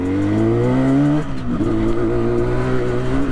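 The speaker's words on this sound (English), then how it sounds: "Really nice raspy sound from the exhaust." A 1973 Yamaha RD 250 motorcycle engine idles and revs with a raspy, throaty exhaust note, close and loud, with a brief dip before settling into a steady rumble.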